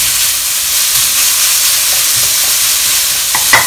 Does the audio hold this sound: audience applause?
no